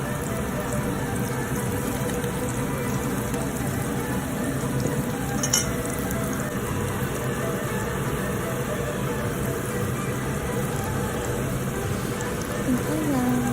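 Beaten egg sizzles and crackles steadily in a hot pan with bitter melon, a continuous fry heard close up throughout.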